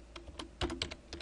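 A short burst of typing on a computer keyboard, several quick, close key clicks in an irregular rhythm, fairly soft, with no voice.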